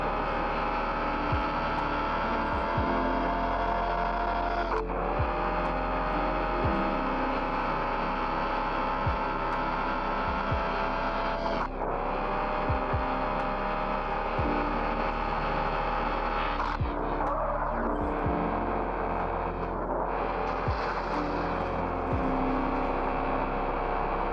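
A car engine in a mobile driving game drones steadily, its pitch climbing and then dropping sharply at each gear change, about four shifts in all, over a constant low hum.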